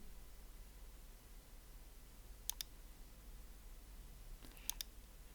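A computer mouse clicks faintly in a quiet room, with two quick double clicks spaced a couple of seconds apart against a low background hum.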